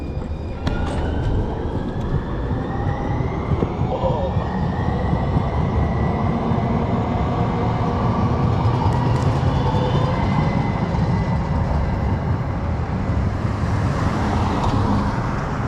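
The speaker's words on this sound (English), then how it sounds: "we might see one of those little tram trains. There we go, right in front of us." A tram passing close by at night in downtown San Diego, a steady rumbling rush with a faint rising whine and continuous road-like noise throughout.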